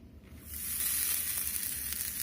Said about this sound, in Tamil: தேங்காய் சேர்த்துனதுக்கு அப்புறம் சக்கரை நல்லா மெல்ட் ஆகுற வரைக்கும் நல்லா ஃப்ரை பண்ணிட்டே இருங்க